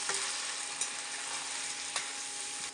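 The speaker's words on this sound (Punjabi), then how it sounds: "ਲਓ ਜੀ ਮਟਰਾਂ ਨੂੰ ਵੀ ਆਪਾਂ ਥੋੜਾ ਜਿਹਾ ਫਰਾਈ ਕਰ ਲੈਂਦੇ" Green peas fry in a pan of hot oil for veg biryani, sending up a dense, continuous sizzle punctuated by a couple of sharp stirring clicks.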